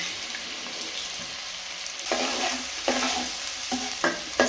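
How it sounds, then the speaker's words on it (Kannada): Chopped onions frying in hot oil in a pan, a steady close sizzle that swells with a few bursts of stirring toward the end, no voices. "ಎಣ್ಣೆ ಕಾದ ನಂತರ ಒಂದಾಗಿ ಕಟ್ ಮಾಡ್ಕೊಂಡಿರುವಂಥ ಈರುಳ್ಳಿ ಹಾಕ್ಕೊಳ್ಳಿ ಫಸ್ಟ್ ಏಕೆಂದರೆ ಈರುಳ್ಳಿ ಫ್ರೈ ಆಗಬೇಕಲ್ವಾ"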